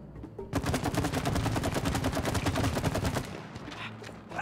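Rapid automatic gunfire from shooting in the co-op video game It Takes Two, a dense run of sharp repeated shots lasting about three seconds after a brief lead-in, loud and close, then tapering into background game sound.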